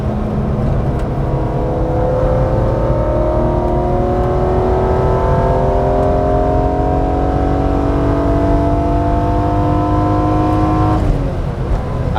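A BMW E46 M3 engine revs up steadily under hard acceleration, its rising tone climbing for about eleven seconds before easing off as the throttle lifts, loud and close from inside the car.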